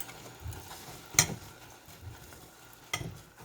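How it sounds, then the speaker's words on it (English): A spoon stirs sauce with melting margarine in a pot, giving soft scraping strokes at a slow rhythm with a couple of sharper clinks against the pot, faint and close. "I'm just stirring this up. Don't want it to stick."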